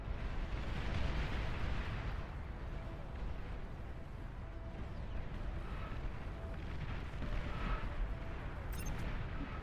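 Anti-nuke missiles firing in a strategy game, a dense, continuous roar of launches and rumbling blasts, loud and sustained throughout without a break.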